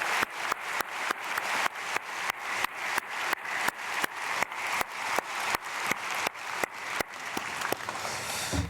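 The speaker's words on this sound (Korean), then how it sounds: "박수로 축복하겠습니다." A church congregation at a dawn prayer service claps in unison, with about two dozen sharp, evenly spaced claps in a steady rhythm, then loosens into scattered applause at the end.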